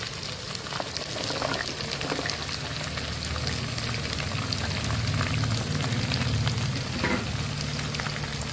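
Small shallots frying in a pan of oil while a buffalo tongue dish is cooked, giving a steady, dense sizzle that runs unbroken throughout, with faint stirring scrapes and no voices.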